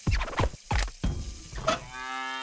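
A cow moos in the Deponia point-and-click adventure game, a rising then sustained bellow closing the clip after a few deep thumping clunks; no talk.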